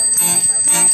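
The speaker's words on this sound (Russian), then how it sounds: "Вместе с басами звучат колокольчики." Bright ringing of the bells on a Saratov garmon accordion, two quick close chimes sounding together with bass notes, loud and clear with no talking.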